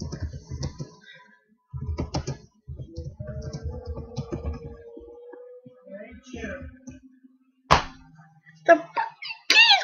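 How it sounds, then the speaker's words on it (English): Computer keyboard keys pressed in bursts of clattering, clunky clicks, close and moderately loud, mixed with creaks and thunks, while people speak in between. "The fucking keys won't work!"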